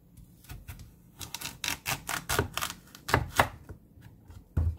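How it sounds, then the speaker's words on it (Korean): A knife chops autumn radish on a cutting board in a home kitchen, with a steady series of sharp, close taps that come in quick bursts separated by short pauses, with no talking. "반으로 잘라주세요. 그리고 채 썰어주면 됩니다."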